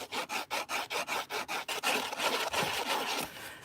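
Dry scratchy rubbing of textured card, starting as a steady rhythmic back-and-forth of short strokes, then blending into continuous brisk scraping, close and fairly quiet.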